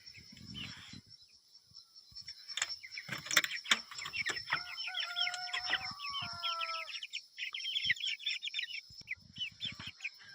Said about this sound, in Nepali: मेरो खोरमा चाहिँ कुखुरा छ।